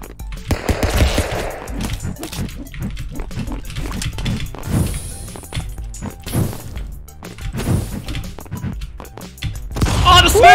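Rapid gunshots in the brawler Stick Fight, loud sharp bangs coming in quick irregular bursts amid chaotic thumps and game noise.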